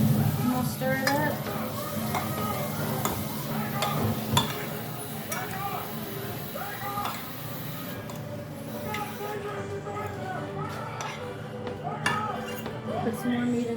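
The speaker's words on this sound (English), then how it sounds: "I'm going to stir it up." A fork stirs spaghetti sauce with meat in a pot, giving continuous soft scraping and clinks over a gentle sizzle, with voices talking throughout.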